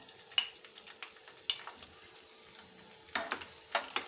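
Soft, intermittent sizzling and crackling of chopped garlic frying in oil, with scattered pops and bursts rising and falling over a quiet background.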